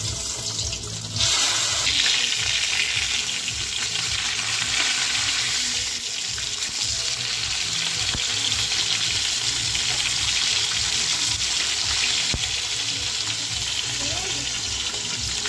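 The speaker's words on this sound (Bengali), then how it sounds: "কচু ভাজা করব" Taro (kochu) frying in a pan in a home kitchen gives a steady, close sizzle throughout, with some watery clatter at the start.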